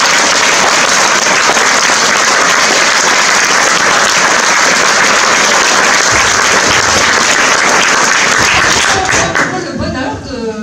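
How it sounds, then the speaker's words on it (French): A crowd at a public European election rally in Dijon applauds Simone Veil, sustained loud clapping that holds for several seconds before thinning out and fading near the end. "Et je propose qu'on applaudit Simone Veil."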